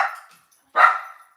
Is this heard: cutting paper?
no